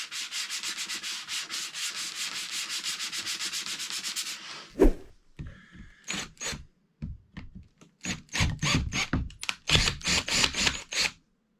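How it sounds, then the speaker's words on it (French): Hand sanding on a disassembled winch part: a steady run of quick back-and-forth abrasive strokes, then a sharp knock and a second, louder burst of rhythmic rubbing strokes separated by brief pauses, close and alone. "je continue mon petit ponçage"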